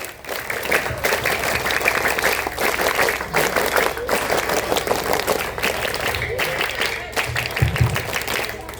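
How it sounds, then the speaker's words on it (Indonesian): Elementary school students perform a rhythmic scout clap in a classroom during an educational session on venomous animals, rapid patterned clapping repeated in bursts with some voices mixed in. "sekali lagi 3 kali tepuk pramuka"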